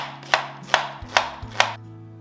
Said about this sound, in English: Slice 1/4 of a small onion.